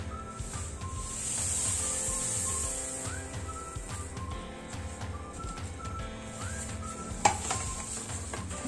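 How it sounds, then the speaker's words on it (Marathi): Roasted sesame seeds stirred into hot, bubbling jaggery syrup in a pan, with a continuous soft sizzle and hiss and a repeated scraping stir, plus a faint utensil clink near the end. "आता आपण भाजलेले तीळ यामध्ये टाकूयात।"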